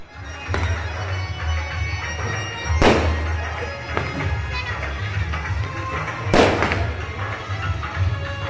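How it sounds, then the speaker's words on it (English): Fireworks at a Guru Ravidas Ji celebration in Punjab, with a handful of sharp bangs going off at uneven intervals over a steady low background hum of the gathering. "They began the fireworks"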